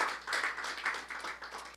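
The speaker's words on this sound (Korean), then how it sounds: "다시 한번 김치훈 교수께 박수 한번 주십시오." An audience applauds Professor Kim Chi-hoon at a Korean university lecture hall, a steady wash of many hands clapping for under two seconds, moderately loud with no voices over it.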